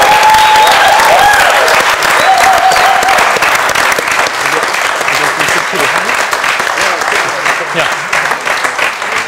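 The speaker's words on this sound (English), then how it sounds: "I would also like to have a big applause for Rolf, Simon, Arnoldus and Kevin" An audience applauds loudly at the close of a university elections debate, a thick, sustained burst of clapping with a few faint voices and whistles over it, easing slightly near the end.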